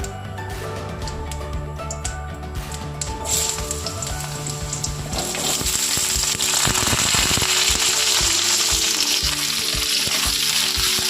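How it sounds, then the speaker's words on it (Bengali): Diced potatoes frying in hot oil over a spice tempering for alu methi give a loud, dense, continuous sizzle that swells and grows harsher midway, with scattered crackles and stirring clatter and no voices. "আলুটাকে ভালো করে ভেজে নিতে হবে।"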